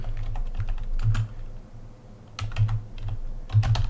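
Keys clacking on a computer keyboard as a terminal command is typed on Ubuntu 24.04 to re-enable SMB file sharing, in short irregular bursts of close, crisp taps over a low steady hum.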